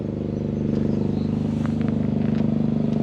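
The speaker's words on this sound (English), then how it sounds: "So down there in the little shed is the diesel generator, and the reason it's running is because a week ago we had more storms" A diesel generator runs inside a small shed in the background, giving a steady low droning hum that stays constant throughout with no talk over it.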